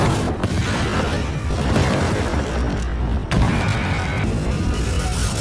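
Continuous heavy rumbling blasts and crashes fill the clip, dense and loud, like a barrage of explosions with no pause.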